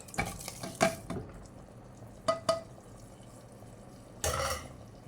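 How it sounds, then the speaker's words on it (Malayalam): Fried coconut, chilli, curry leaves and onion tipped into erissery in a pan, giving a few short sizzling, clattering bursts separated by quiet gaps, fairly faint and close. "ഇനി നമ്മൾ വറുത്ത് വച്ചിരിക്കുന്ന തേങ്ങയും മുളകും കറിവേപ്പിലയും ഉള്ളിയും എല്ലാം കൂടി നമുക്ക് ഇതിലേക്ക് ഇടാം"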